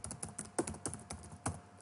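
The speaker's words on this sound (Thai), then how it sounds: "ให้ฝึกพิมพ์นะครับ" Fast typing on a computer keyboard during Thai typing practice: a steady run of crisp, close key clicks with a few louder strikes, with no talking.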